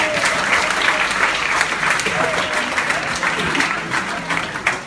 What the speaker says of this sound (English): Round of applause for the 4 guys who played